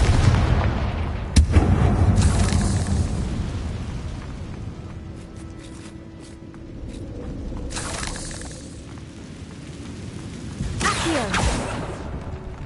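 Blasting-spell explosions in the Hogwarts Legacy video game, with several loud booming blasts and rumbling bursts spread across the clip, heavy and close with roaring tails.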